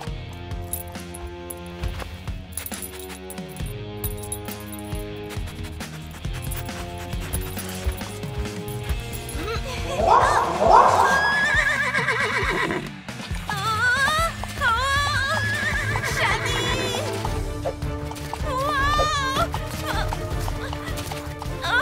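A cartoon horse whinnies loudly over a busy musical score, with rhythmic clip-clopping hooves woven through the bright, layered soundtrack.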